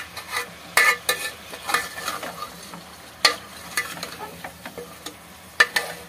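Whole garlic cloves and chicken pieces fry in a pan for Bihari-style curry: a constant sizzle broken by sharp scraping knocks of a utensil stirring, close and with no talk.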